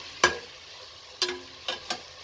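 Cumin paste hitting a hot pan: a faint background sizzle broken by four sharp clinks or taps of a utensil, spaced irregularly, close by.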